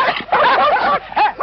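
A dog barks in a few short, close yips and barks, spaced unevenly across a brief moment with no talk over them.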